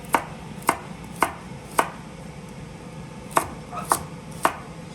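Kazakh carrots sliced with a sharp knife on a board, seven crisp chops, the first four evenly spaced, then a short pause before three more closer together, each a near, loud thunk over quiet background.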